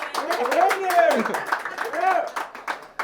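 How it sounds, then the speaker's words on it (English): A small audience at a basketball fan event claps for Maine Celtics rookie guard Hayden Gray, scattered hand claps mixed with voices and cheers, fairly close and short. "Give him a round of applause"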